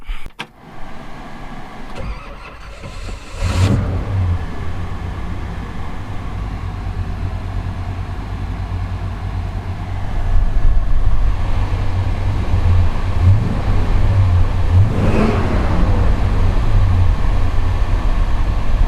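A Buick engine with a high-volume oil pump cranks and catches, then settles into a steady idle with a rev that raises the rumble partway through, loud and close.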